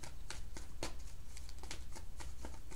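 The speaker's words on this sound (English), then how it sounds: "Y'all see me shuffling?" Tarot cards are shuffled by hand in quick, soft riffling bursts, close and fairly quiet, with a faint voice in the background.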